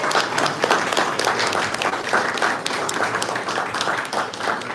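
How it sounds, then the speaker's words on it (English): Audience applause for contestants at the U.S. Shoe Shine Championship, a steady, moderately loud patter of many hands clapping throughout without pause. "Let's give our contestants another round of applause."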